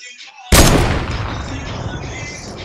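A single sharp sniper rifle shot in a shooter game, loud and close, with a long rumbling tail fading over the following seconds.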